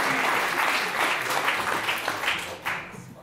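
Sustained audience applause at an awards ceremony for a cinema prize, steady and fairly loud throughout with a dense wash of clapping that dips briefly near the end.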